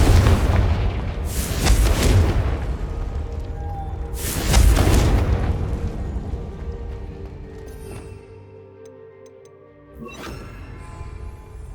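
Two heavy Confringo blasting-spell explosions boom in Hogwarts Legacy, each loud, deep and rumbling, followed by a lighter crackle and lingering magical hum, with no voices.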